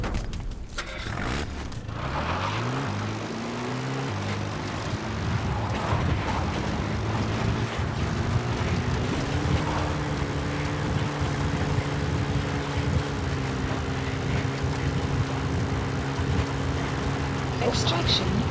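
The support helicopter in Metal Gear Solid V: The Phantom Pain arrives with a loud, steady engine and rotor drone that rises in pitch, then levels off and holds, with brief voices over it.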